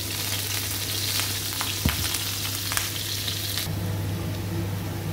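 Chopped onion with salt frying in a pan gives a loud, steady close-up sizzle, with a couple of brief knocks and scrapes as it is stirred.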